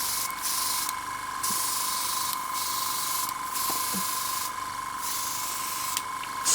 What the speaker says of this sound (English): Spraying beautifully, so we spray some of that thinner out.